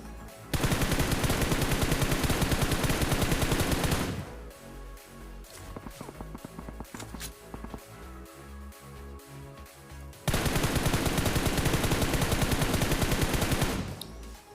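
Automatic gunfire in a battle royale shooter match, two long sustained bursts of rapid shots with a quieter stretch of scattered single shots and thuds between them, loud and close.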